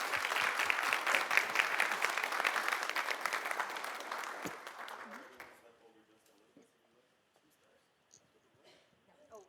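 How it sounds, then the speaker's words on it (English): A group gives guest services staff a rousing round of applause, with dense, loud clapping that holds steady and then dies away about halfway through, leaving a quiet room with faint movement. "And a rousing round of applause for all their great service."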